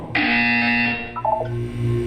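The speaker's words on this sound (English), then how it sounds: "When you hear the buzzer, look down at the floor." A loud electronic buzzer from the video game Portal 2 sounds for about a second, a steady harsh tone, followed by a short series of quick stepped beeps, with no talk over it.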